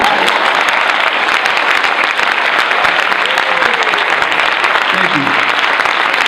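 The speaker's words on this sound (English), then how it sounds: "please welcome him with a big round of applause" Loud, dense applause from a crowd at a tribute event for artist Elizabeth Catlett, steady for several seconds, with a voice briefly speaking over it near the end.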